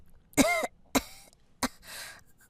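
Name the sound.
coughing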